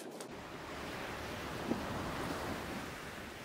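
Ocean surf rolls onto an open New Zealand beach, a steady, fairly distant wash of breaking waves with wind noise, alone and without voices.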